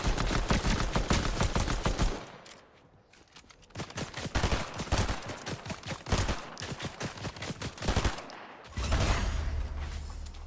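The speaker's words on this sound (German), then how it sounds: "Ein Schuss mit der Shotgun in den Tod." Shotgun shots in Fortnite, loud sharp bursts of gunfire clustered in rapid volleys, with a brief lull in the middle and heavy game noise around them.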